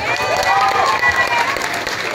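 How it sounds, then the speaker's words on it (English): Applause and cheering from an audience at a music album showcase event, a broad crowd roar of clapping with a few shouts, while a high musical tone runs underneath. "So let's give them a round of applause."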